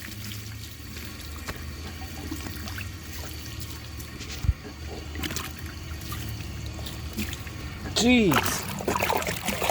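A 1982 Briggs Conserver toilet flushes with a steady rush of water through the bowl, a brief clunk midway and a louder surge near the end, under a short exclamation from a person.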